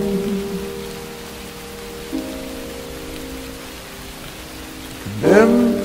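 Steady rain falls as a soft, even hiss throughout, with sustained musical tones running over it and a brief louder swell near the end.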